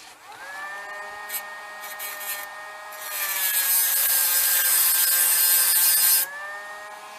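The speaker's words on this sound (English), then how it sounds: "I just put this Dremel on here" A Dremel rotary tool whines at a steady high pitch, with a brief dip in speed, while it cuts a slot in a small model railroad figure, growing harsher and louder for about three seconds as it bites in.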